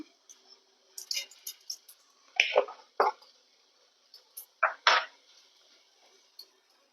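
Mustard seeds pop and crackle in hot oil in a pan, small sharp bursts coming irregularly, a scattered sizzling spatter, fairly quiet and close.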